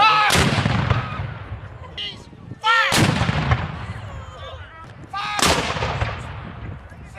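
Three loud cannon blasts at a Battle of Atlanta reenactment in Keokuk, Iowa boom out a few seconds apart, each followed by a rolling echo that fades before the next shot.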